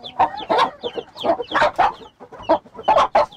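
An agitated broody hen clucks loudly in a chicken coop with chicks nearby. It gives a rapid series of close, harsh clucks and squawks in uneven bursts. No one speaks.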